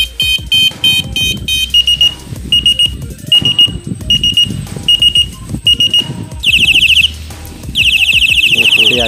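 A rechargeable electronic bicycle horn cycles through its sound modes: a rapid burst of beeps, then evenly spaced single tones, then a loud warbling siren pattern, all close and harsh.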